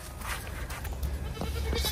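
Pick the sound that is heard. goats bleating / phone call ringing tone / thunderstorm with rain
goats bleating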